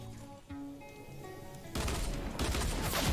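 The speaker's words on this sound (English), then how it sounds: "we just got sniped" Gunfire in the Roblox shooter Arsenal's gun game mode: a quieter stretch of game sounds, then a sudden loud burst of rapid shots and noise continuing to the end.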